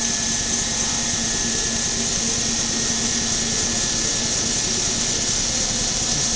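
A 1998 Cincinnati-Milacron Arrow 750 CNC vertical machining center spindle spins at 1,000 RPM, giving a steady, continuous mechanical whine and hum with a constant high tone over broadband machine noise.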